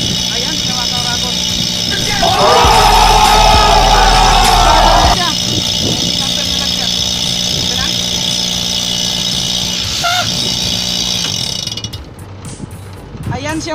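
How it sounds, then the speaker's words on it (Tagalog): A new 15-ton air conditioner compressor runs under test with a loud, steady mechanical hum and drone, a heavier surge midway, while people talk nearby. "papaandarin natin mga kauragon yung compressor"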